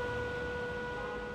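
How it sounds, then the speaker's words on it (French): A shrill, persistent siren in Alexandria holds steady, sustained piercing tones at constant loudness throughout, with no pause. "Sirène cinglante, entêtante"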